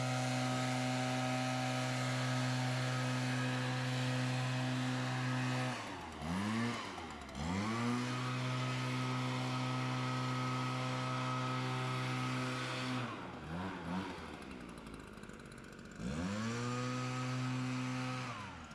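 A leaf blower clears grass clippings from the entrance of a home. Its loud, steady two-stroke engine drone runs close by throughout, with a few dips and rises in pitch as the throttle eases off and opens back up.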